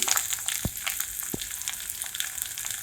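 Curry leaves crackle and sizzle in hot mustard oil in a pan for a soyabean paratha dish, a steady broadband hiss with a couple of sharp low pops, no voices.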